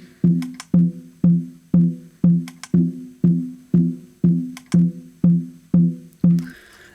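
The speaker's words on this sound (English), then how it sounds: "now listen to what happens to the body of the snare drum when I switch the phase." Snare drum struck twelve times at a steady rhythm, heard through the bottom microphone with its phase switched and filtered, each hit sharp and ringing with a clear tonal body, alone and fairly loud.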